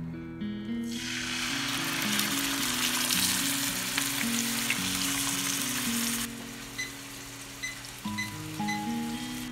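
Meat laid into very hot oil, a loud burst of sizzle that holds steady and then drops off after several seconds, with background music throughout.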